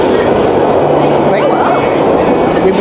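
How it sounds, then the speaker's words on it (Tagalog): A steady, loud rumble and rattle of an MRT train ride toward Divisoria in the Philippines, with continuous wheel and carriage noise and a faint squeal midway. "We are on MRT going to Divisoria."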